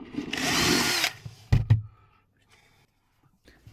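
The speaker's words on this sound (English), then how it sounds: "Firstly, we need to drill a hole to run the wire through for the USB." A power drill bores a hole through a campervan panel for a USB socket wire: a steady, loud whirring burst lasting about a second, then a couple of sharp knocks and quiet handling noise.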